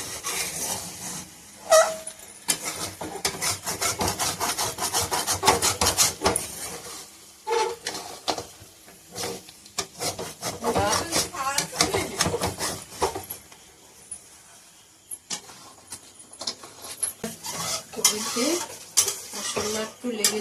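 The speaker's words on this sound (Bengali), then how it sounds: "এটা ভালো করে নেড়ে চেড়ে মাখিয়ে দিই।" Goat meat being stirred and tossed with spices in a pot, a busy run of metal spoon scrapes and clatters over a soft sizzle, close up, coming in bursts with short pauses.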